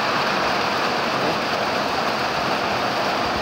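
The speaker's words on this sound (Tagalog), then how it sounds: "Ayun, malakas yung ulan." Heavy rain pours down as a continuous, dense hiss of broadband noise, loud and unbroken throughout.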